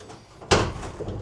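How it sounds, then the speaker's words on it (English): After a brief quiet moment, a van door opens with a single loud clunk and rattle that fades quickly. "Open the door."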